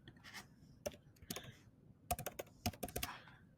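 A social security number is typed on a computer keyboard in quick, uneven bursts of crisp key clicks, close and clear over a quiet background, with no talking.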